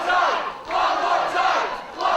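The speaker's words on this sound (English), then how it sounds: "And the crowds, they're calling for one more time." Wrestling arena crowd at a singles re-match chanting loudly in unison, a rhythmic swelling roar of many voices rising and falling in repeated phrases.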